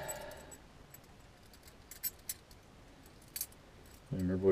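Car keys for a 1974 Valiant jangle in a few short metallic bursts against a quiet background, followed by a brief voice at the end.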